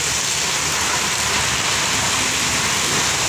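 Steady, dense rain pours down in Jhargram, a continuous broadband hiss of drops on surfaces, loud and close throughout with no voices.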